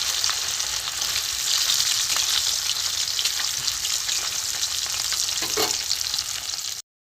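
Small hilsa fish fry in hot oil, a dense, continuous crackling sizzle close up, with one brief clink of a utensil near the end before it stops abruptly.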